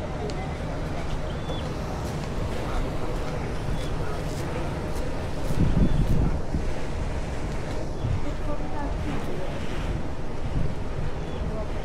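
Wind blowing outdoors by the sea makes a continuous, dense roar with buffeting on the microphone, growing to a stronger gust midway before settling back to a steady rush.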